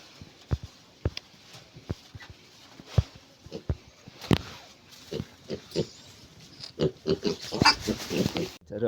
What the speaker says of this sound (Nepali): यहाँ हाम्रो चाहिँ एउटा सुँगुर पनि छ